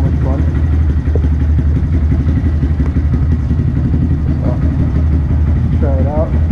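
A 2018 Honda Grom with a Yoshimura aftermarket exhaust idles nearby, loud and rumbling with a chugging low throb, while someone speaks over it.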